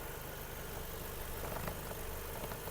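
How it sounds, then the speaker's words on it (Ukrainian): A 2007 Volkswagen Golf 5 with a 1.6 MPI petrol engine and automatic gearbox idles quietly and evenly, a faint steady hum with no talk. "Мотор працює тихо, рівно, не димить, не троїть"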